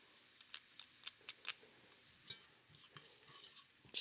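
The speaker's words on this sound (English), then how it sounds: "we're going to saute some onion and a couple of cloves of garlic" Onion and minced garlic cloves cooking gently in a pan, with soft, intermittent sizzling and light stirring clicks at a moderate, close distance, no voices.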